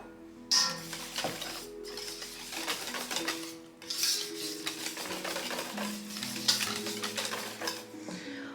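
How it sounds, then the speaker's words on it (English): A spatula scrapes around the sides of a mixing bowl during holiday baking, making repeated close scraping and knocking strokes in irregular bursts. "I'm gonna go ahead and scrape the sides of the bowl with the spatula"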